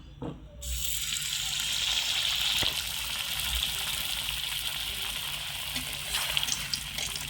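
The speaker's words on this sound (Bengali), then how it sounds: "এগুলো কিন্তু ভাজতে হবে হালকা আঁচে" Flour-dough breakfast snacks dropped into hot oil and frying over low heat, a sudden start into a steady, dense bubbling hiss that stays even and close, with a few light clicks near the end and no voices.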